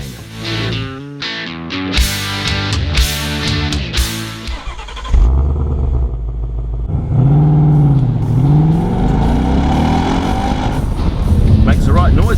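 A Ford Mustang GT Fastback with a 5-litre V8 and a manual gearbox revs in sharp, loud bursts, then settles into a rising and falling engine drone as it pulls away on a tight road.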